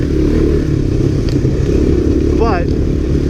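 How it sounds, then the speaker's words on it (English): A 1985 Honda ATC250SX trike engine runs steadily as it is ridden, a loud continuous two-stroke drone with some clatter and a brief rising whine near the end. "that is my 85 ATC250X, and he is riding that trike"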